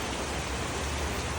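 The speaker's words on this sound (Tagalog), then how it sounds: "Tag-ulan na naman." Steady, soft hiss of rain falls evenly without pause, a uniform wash of sound with no voices.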